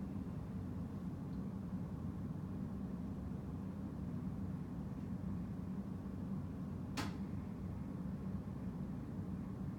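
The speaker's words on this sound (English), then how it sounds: "And now the machine will do a quick spin." A washing machine on a quick spin cycle gives off a steady, even whirring drone throughout, with one brief sharp click partway through and no talking.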